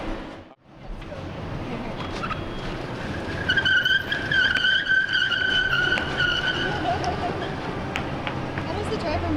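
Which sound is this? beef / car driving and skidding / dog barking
car driving and skidding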